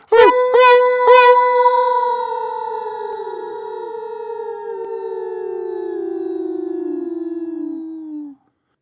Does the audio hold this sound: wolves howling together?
yes